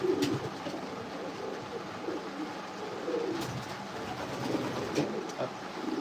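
Racing pigeons coo softly inside a breeder loft on a rainy day, low throaty calls repeating under a steady hiss of background noise, with occasional faint clicks.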